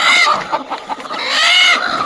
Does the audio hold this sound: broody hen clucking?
yes